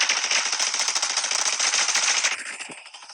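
Rapid automatic weapon fire from the Fortnite video game, a dense continuous burst of shots lasting a couple of seconds before tapering off, with no talk over it.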